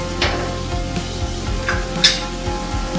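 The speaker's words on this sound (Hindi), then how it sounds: "अच्छे से भून लूंगी" Spices for aloo gobhi sizzle steadily in a hot pan while a spoon stirs and scrapes through them in repeated strokes, with a few light clinks against the metal, close and fairly loud, with no talk.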